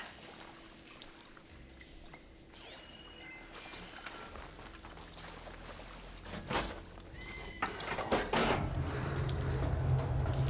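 In Horizon Forbidden West, water switches flow through pipes after a valve is turned, giving a low rushing gurgle that swells over the stretch, punctuated by metallic clanks and knocks.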